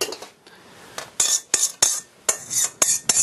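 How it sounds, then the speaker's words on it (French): A utensil mixes egg yolks into melted chocolate and butter for a chocolate cake, making sharp, close clinks against the bowl in an uneven rhythm over a soft stirring background. "Je vais incorporer les œufs, donc les jaunes"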